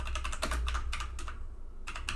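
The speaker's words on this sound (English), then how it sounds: "start typing." Keys clatter on a computer keyboard in quick bursts while someone types text into a JavaScript poster generator, the clicks close and crisp with a short pause before typing resumes.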